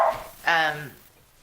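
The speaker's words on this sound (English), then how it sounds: "my dog decided to bark at someone walking down the street" A dog gives a single sharp, close bark at someone walking down the street, then falls quiet.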